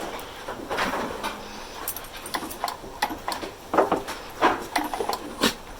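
A dog whimpers and scrabbles about, with short irregular whines, snuffles and scratchy bumps, close by, in a workshop setting at an outdoor college.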